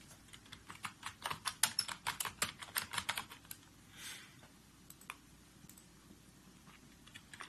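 Code is typed on a computer keyboard in quick, quiet bursts of clicking keystrokes. The bursts cluster early, then thin out to a few scattered taps.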